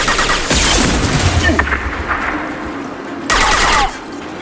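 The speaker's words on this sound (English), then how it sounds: "Firing concussive shot!" A concussive shot fired in Mass Effect 2 lands as a loud, close burst, followed by a second heavy blast near the end amid continuous combat noise.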